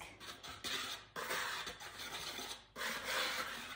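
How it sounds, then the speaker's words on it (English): Cookie batter ingredients are whisked in a bowl in a home kitchen, giving quiet, close scraping and rasping strokes in several bursts with brief pauses between them and no talk. "Now we're gonna whisk."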